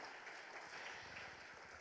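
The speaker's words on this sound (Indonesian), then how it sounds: "Boleh saya dengar tepuk tangan yang paling meriah hari ini?" Steady, dense clapping from an audience at a corporate public expose meeting, sustained evenly throughout with no voices rising above it.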